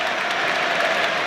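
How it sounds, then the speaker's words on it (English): Football crowd at an Aston Villa versus Cardiff City FA Cup match applauds a substitution, a brief dense wash of clapping heard at a distance. "an opportunity with the score at 2-0 to rest Ollie Watkins, who goes off to applause."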